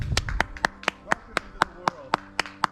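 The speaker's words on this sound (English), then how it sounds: "Can we get a round of applause for the fresh hatch of black flies?" A small group claps outdoors in a northern wilderness camp, giving about a dozen sharp, evenly spaced claps that slightly overlap, close by, after a voice calls for applause.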